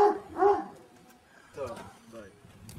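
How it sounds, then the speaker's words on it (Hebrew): Dog barking in a village in Georgia, two loud nearby barks early on, then fainter yelps and whimpers that are partly mixed with speech. "כלב!"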